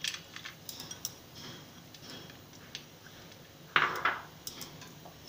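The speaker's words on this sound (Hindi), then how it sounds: "इसको डाल देंगे अपने कुकर में।" Soaked arhar dal being tipped into a pressure cooker, giving a few close metallic clinks and scrapes with a brief louder clatter partway through, over a quiet kitchen background with no speech.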